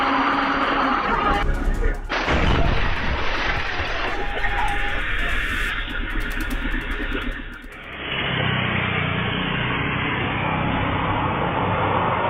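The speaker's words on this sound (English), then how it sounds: "the dog runs away after the truck's tire suddenly blows out. The loud bang and flying dust clearly scaring it" A truck tire blows out with a sudden loud bang, followed by a heavy burst of noise and rushing dust, then a quieter steady roar.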